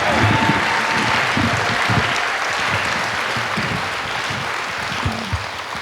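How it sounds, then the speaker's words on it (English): Audience at a story slam event applauding after a story, a full, sustained round of clapping with some cheering that stays strong and fades slightly toward the end. "We have to give another round of applause for that"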